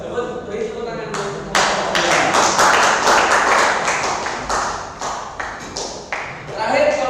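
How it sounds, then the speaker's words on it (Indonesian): Audience clapping after a group presentation in a classroom, starting with a few taps and then swelling into brisk, loud applause that continues for several seconds before trailing off, with some faint talk mixed in. "Beri tepuk tangan dulu."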